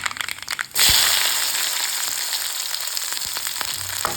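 Chopped garlic, shallots, ginger and green chilies hit hot oil in a pan for a fish curry, setting off a sudden loud hiss that holds as a steady close sizzle with a few faint stirring knocks.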